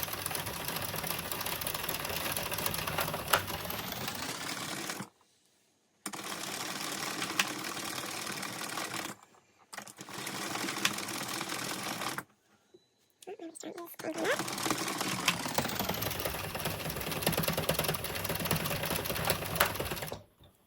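A hand-cranked circular knitting machine knits rows of waste yarn, a close rattling, clicking mechanical whir in three long bursts separated by short pauses, with no talk over it.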